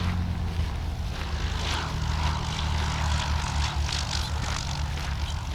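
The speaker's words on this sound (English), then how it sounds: "There's a plane coming in right now." A propeller-driven airplane comes in to land at San Mateo Municipal Airport, heard from a nearby hiking trail as a loud, continuous engine drone that holds steady throughout, with no talking.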